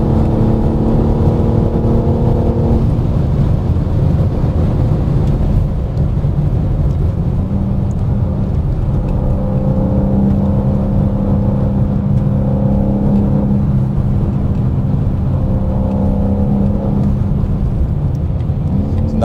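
A 2025 BMW M4 CS engine on a race track, loud and close throughout, its note dropping and rising through a series of downshifts with steady drivetrain roar underneath.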